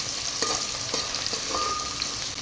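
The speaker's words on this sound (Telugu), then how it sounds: "ఈ ఉల్లిపాయలు లైట్ గోల్డెన్ కలర్ వచ్చేంత వరకు వేగనిద్దామండి" Onions and green chillies fry in a pan, a continuous loud sizzle broken by a few sharp scrapes and knocks of a spoon as they are stirred.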